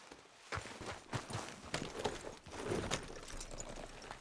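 Horse hooves clip-clop at a steady walking pace in the Red Dead Redemption 2 game, close and moderately loud, with the rhythmic footfalls continuing throughout against a light outdoor background.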